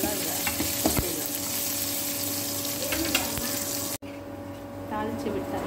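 Onions and curry leaves fry in hot oil for a tempering, a steady close sizzle with occasional stirring clicks, briefly cut by a sharp break near the end before resuming.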